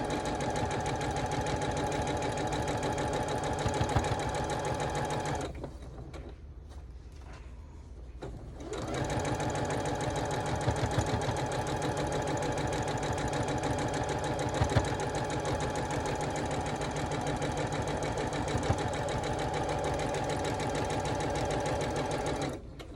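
A sewing machine stitches a Blue Ribbon Weave quilt at a steady rapid hum, running loudly and continuously apart from a brief pause of a few seconds partway through.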